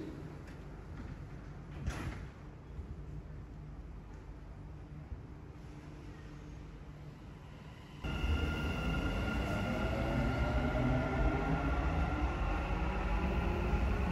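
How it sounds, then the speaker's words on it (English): A Dubai Metro train on the Expo 2020 route line extension sits at a station platform, giving a steady rumble and hum that turns louder and fuller about halfway through as it starts moving off, with no talking. "The train to UAE Exchange will depart from platform 2."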